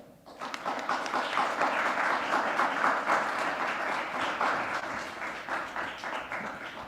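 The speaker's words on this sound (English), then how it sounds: "Round of applause." Audience applause at a pre-inauguration press conference, many hands clapping in a dense, steady burst that swells quickly and holds loud for several seconds before easing slightly.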